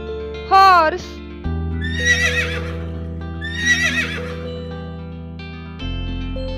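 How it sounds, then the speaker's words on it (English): A horse whinnies twice in a high, shaking call over a steady musical backing, with a short cartoonish sound effect at the start and a brief voice. "H for horse."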